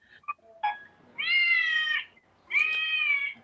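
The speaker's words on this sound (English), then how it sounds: "It's a bunch of cats singing." A musical birthday card plays recorded cat meows as a song: a few short chirps, then two long, drawn-out electronic meows, thin and tinny, heard close with no talking.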